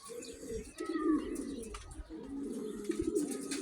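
Pigeons coo softly and repeatedly at close range, their low throaty calls overlapping with faint rustling in the background.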